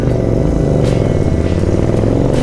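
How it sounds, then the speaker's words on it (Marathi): A motorcycle ridden along a busy coastal road in Devgad, Konkan, throbs loudly and up close, with a constant engine roar and rushing wind that never lets up. "मला खरं सांगतो बाईक आहे म्हणून पटपट प्रवास करता येतो"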